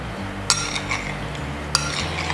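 Hot potato salad being stirred in a bowl, with two sharp clinks of a utensil against the bowl over a soft, steady scraping of the mix, close up and without voices.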